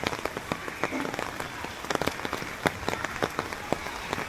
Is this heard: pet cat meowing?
no